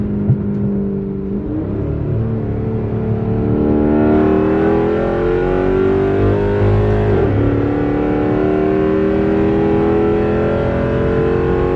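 A tuned Chrysler 300 SRT8 revs and drives with a loud, steady engine drone whose pitch climbs and dips through shifts, close and continuous, with no talking over it.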